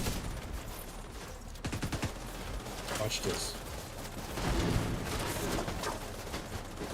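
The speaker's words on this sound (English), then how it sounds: "Oh, a little more extra explosions." Explosions and gunfire in the shooter game Division 2 rumble and crackle at moderate level beneath a man's brief speech, with bursts swelling toward the end.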